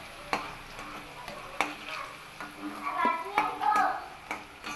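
Potatoes fry in oil with a soft sizzle while a utensil taps and scrapes the pan in irregular strokes, nearby and fairly quiet, with a faint voice briefly in the background.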